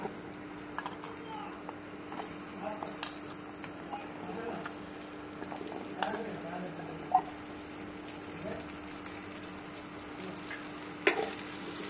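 Jackfruit seeds fry in oil for a curry, giving a soft, steady sizzle broken by occasional sharp clicks and scrapes as they are stirred in the pan.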